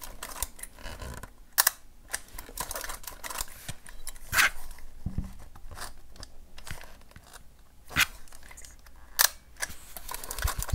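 The shutter of a Wide-Angle Rolleiflex camera fires repeatedly, a series of sharp mechanical clicks at uneven intervals over quiet handling noise, with no talking.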